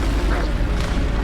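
A Bombarda explosion spell in Hogwarts Legacy: a brief, loud, low booming rumble that stays close and heavy for about a second.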